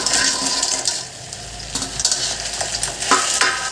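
Veg manchurian being stirred and sautéed in a pan with water and salt added: steady close scraping and stirring with a soft sizzle throughout, no talking.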